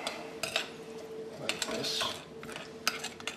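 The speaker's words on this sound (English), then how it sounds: "And I'm going to mix it all up." Chicken marinade with chopped green onions stirred in a bowl, a utensil clinking and scraping against the sides in a few quick, close strokes.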